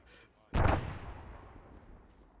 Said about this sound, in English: what are all those explosions?